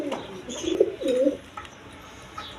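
A pair of kaldom pigeons with crested heads coo in a loft, giving a couple of close, throaty rolling coos that fade to quieter background murmurs.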